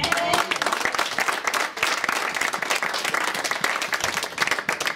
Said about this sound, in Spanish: Un aplauso al Rey